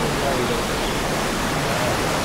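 Steady broadband rush of a river near Alaxan Seven Falls, water flowing from Balagbag, continuous and fairly loud with no break across the stretch.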